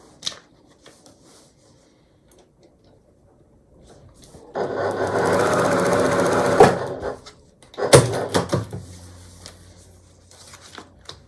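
A sewing machine stitches scrappy quilt strips for a bargello quilt block in one steady burst of about two seconds, followed by clicks and fabric handling in a quiet room.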